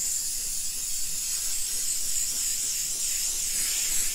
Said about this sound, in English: Then I'm going to come back with my Mod Podge spray